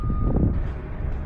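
Truck up on a hill sounding a steady reversing beep, one sustained tone heard at a distance over low rumbling engine noise.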